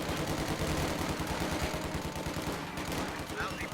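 Rifle squads exchange continuous gunfire in a real-time strategy video game, a dense rattle of overlapping shots at a steady level with faint talk underneath.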